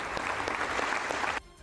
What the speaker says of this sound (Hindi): सभी अपनी कुर्सियों से खड़े हो गए और तालियां बजाकर उनकी हौसला अफजाई की